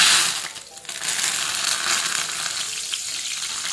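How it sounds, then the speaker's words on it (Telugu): Curry leaves crackle and spit as they fry in very hot oil for spicy radish 65, a dense, loud close sizzle that dips briefly, then swells and holds steady. "కొంచెం దూరంగా ఉండి కరివేపాకు కూడా వేయించేసుకోండి"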